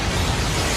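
A Big Bang explosion sound effect made of a dense, loud, sustained roar of broadband noise that holds steady for under a second, alone with no voices.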